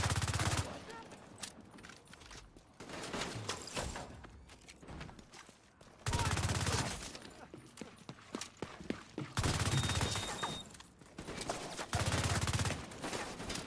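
Bursts of LMG machine gun fire from an enemy NPC in The Division 2 video game, several sustained volleys separated by short gaps, loud and sharp against quieter stretches of ambient game sound.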